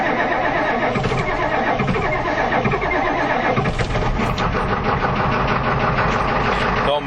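A 1991 Ford F350 with a 7.3L diesel engine cold-starting, then settling into a loud, steady, slightly knocking clatter that fills the recording close up without a break.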